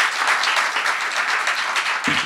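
A conference audience applauds a speaker joining live from Vienna, with dense, sustained clapping from many hands filling the hall and a brief low thump at the end.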